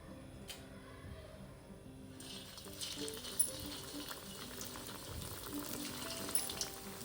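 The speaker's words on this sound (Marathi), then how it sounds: "आता गरम झाले, तर आपण वड्या तळून घेऊ" Cabbage vadis sizzling and crackling steadily in hot oil, a continuous dense frying hiss with a sharper burst of sputtering partway through, close and moderately loud with no talking.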